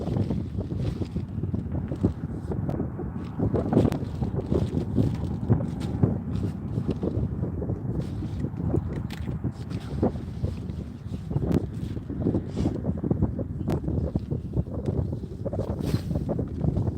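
Steady wind blows over open water, a constant rushing roar buffeting the microphone throughout, with faint boat-like rumbles underneath and no talk.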